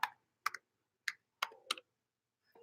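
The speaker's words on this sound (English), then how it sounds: "Here, I'll type it in here." Several separate clicky keystrokes on a computer keyboard as a website address is typed, arriving in short spaced bursts, close and fairly quiet, with no talking.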